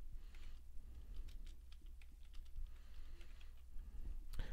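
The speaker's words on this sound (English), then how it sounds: "let me type this in" Typing on a computer keyboard while entering MATLAB commands, with quick, light, irregular key clicks close by over a steady low hum and no speech.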